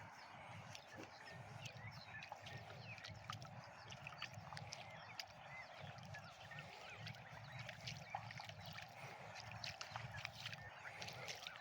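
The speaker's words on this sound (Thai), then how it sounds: "คลื่นนะครับ" Sea waves wash onto a beach on Thailand's eastern coast near Chanthaburi, a steady, moderately faint broadband roar with low rumbling surges running continuously, with scattered faint higher chirps mixed in.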